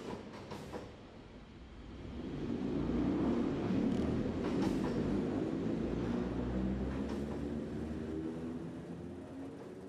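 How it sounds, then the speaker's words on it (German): A historic Berlin S-Bahn train pulls away from a station with a control car leading, its motor and running gear rising into a steady, close rumble with faint rail clatter, no voices present. "Kurz darauf startet der Zug mit Steuerwagen 165, 231 an der Spitze, die Fahrt nach Erkner."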